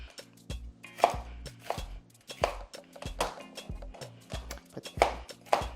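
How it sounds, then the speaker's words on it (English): A knife chopping a pepper on a cutting board, a series of sharp, close, uneven thuds in quick bursts, with short pauses between strokes. "Then we're gonna chop our other pepper."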